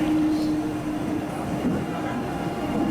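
An ICE high-speed train travelling from Brussels to Cologne fills the cabin with a steady rumble and a faint whine, continuous and moderately loud throughout.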